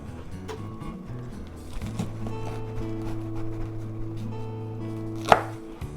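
A knife cuts corn kernels off the cob in a kitchen, with a series of close, crisp chopping taps and scrapes, then one sharper, louder strike near the end, heard over background music.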